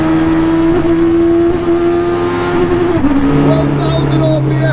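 A £500 Peugeot 106 fitted with a superbike engine revs hard up close, a loud, steady buzzing engine note that rises and dips in pitch through continuous throttle blips.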